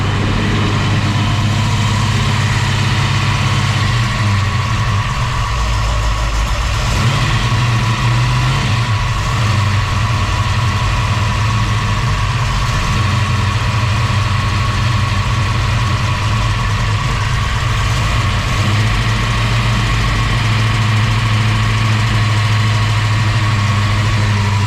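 A Holden HT Monaro engine settles into a steady idle after being revved, a loud, continuous low rumble held close for over twenty seconds with a slight shift in tone partway through.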